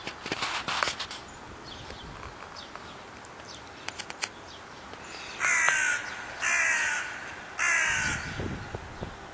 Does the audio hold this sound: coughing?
no